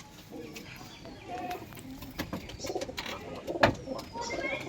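Large Punjabi Malwahi pigeons coo softly and repeatedly, with a few louder calls standing out, amid scattered rustling and background noise.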